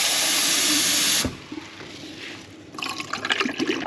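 Fresh tap water rushes loudly from a faucet as a rinse during film development, a dense hiss that cuts off abruptly, followed by quieter dripping and then splashing trickles.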